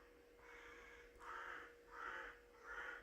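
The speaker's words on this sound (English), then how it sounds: "we've got crows going on, I think." Crows caw outside, three or four harsh calls in a steady rhythm, faint and distant against a quiet indoor background hum.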